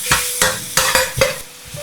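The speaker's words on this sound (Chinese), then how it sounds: "鍋裡面加入食用油，油熱後下入薑蒜末，" Minced ginger and garlic hit hot oil in a wok, sizzling loudly and close while a utensil scrapes and stirs in about five quick, rhythmic strokes.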